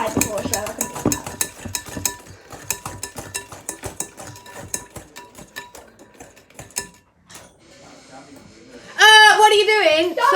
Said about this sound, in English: she's going to try and whisk it